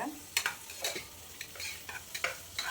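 Onions are stirred as they sauté in a pan, with soft sizzling under repeated scraping strokes of a spoon, close and steady, with no talk.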